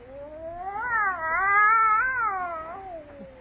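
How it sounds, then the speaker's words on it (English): A cat yowls inside a quiet house, one long, loud, wavering caterwaul that rises and falls in pitch for about three seconds, close and alone. "That cat."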